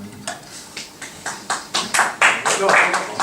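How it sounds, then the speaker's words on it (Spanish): Scattered handclaps from a debate audience, starting as sparse isolated claps and building into denser applause over a few seconds, fairly close and alone without talk. "luego ya nos aplaudís a todos"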